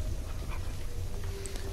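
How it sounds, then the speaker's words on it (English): A dog trailing a guard in the stealth game Dishonored, a short burst of low canine whimpering and snuffling over a dull game ambience, close and brief. "he's walking away, followed by the doggy"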